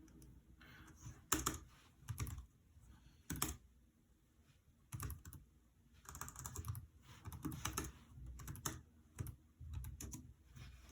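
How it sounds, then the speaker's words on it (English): Typing on a Raspberry Pi 400's built-in keyboard, with bursts of close, crisp key clicks separated by brief quiet pauses, fairly soft overall and with no voices. "let's have a quick type on this"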